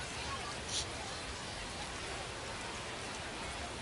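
Steady rain falls over a baseball stadium, a soft continuous hiss of drops with faint crowd murmur beneath, fairly quiet and even throughout.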